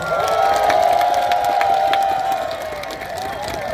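A festival audience at an outdoor summer music stage claps and cheers loudly, with a dense crowd roar and a sustained voice running over the top, easing slightly toward the end.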